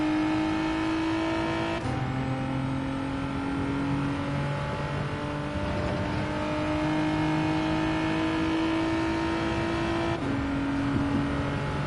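Car engine in a driving game revved hard up a hill, a loud sustained drone with sharp shifts in pitch at gear changes, alone with no talk.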